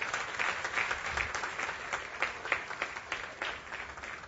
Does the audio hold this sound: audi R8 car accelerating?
no